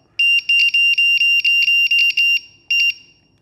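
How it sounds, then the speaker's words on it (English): A voltage alarm on the battery of an Eachine F-16 50mm EDF jet emits a loud, shrill run of about nine evenly spaced beeps, then one final beep after a short pause, with no talking. "I'm going to try to put in a voltage alarm"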